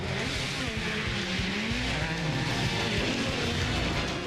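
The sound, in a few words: stunt show cars with 1,300cc motorbike engines racing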